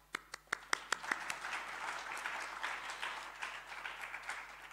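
An audience starts clapping with a few sharp, separate claps that quickly build into steady, moderately faint applause. It runs alone at an event introducing a university vice chancellor.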